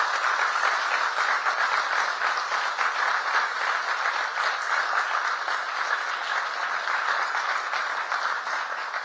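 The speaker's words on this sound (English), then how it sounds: "Please, a big cheer for Kimberly." Audience at a Scottish Labour political event applauds continuously, a thick, even wash of clapping from a large crowd sustained for about nine seconds without talk.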